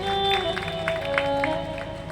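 An audience at a Sai Charitra religious discourse in a Jalaram temple claps steadily, a soft and continuous patter of applause.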